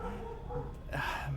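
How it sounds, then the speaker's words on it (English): Dogs bark and yip in the background, somewhat distant, with a steady murmur of other sound around them. "My dogs keep barking."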